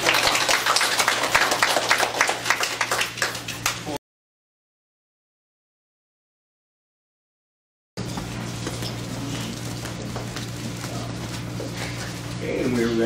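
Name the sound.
classroom applause for a group presentation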